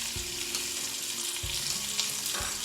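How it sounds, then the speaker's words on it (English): Beef roast searing and browning in a hot pan, a continuous close sizzle and crackle with a few soft bumps as the meat is moved around, no talking. "we're just gonna move it all around till it gets nice and brown, has a nice little crust"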